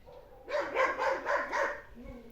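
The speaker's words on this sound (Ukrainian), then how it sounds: "Що там гавкає?" A dog barks in a quick run of five rhythmic barks at moderate distance outdoors in a garden, followed by a faint brief sound, with no speech over it.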